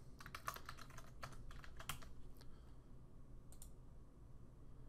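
Computer keyboard typing a password, with a quick burst of close key clicks in the first two seconds, then a few scattered taps before going quiet, with no speech.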